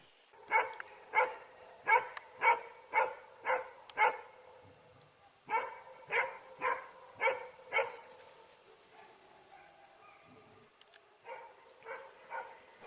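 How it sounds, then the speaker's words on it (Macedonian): Hunting hounds bark during a wild boar hunt, a steady run of loud rhythmic barks with brief pauses, outdoors and at moderate distance, a few yips trailing off near the end. "Терачите веќе ги беа пуштиле кучињата гоничи"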